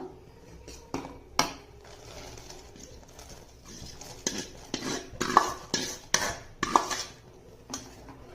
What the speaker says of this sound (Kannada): ಇವಾಗ ಹಾಲು ಕುದೀತಾ ಇರುವಾಗ ನಾವು ಸಬ್ಬಕ್ಕಿ ನೆನೆಸಿಟ್ಟಿದ್ದೀವಲ್ಲ, ಆ ಸಬ್ಬಕ್ಕಿನ ಹಾಕಬೇಕು